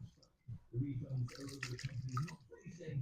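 Contaminated fuel with water in it sloshing and splashing inside a container being shaken, from the fuel of a rough-running STIHL hedge trimmer, close and moderately loud over someone talking.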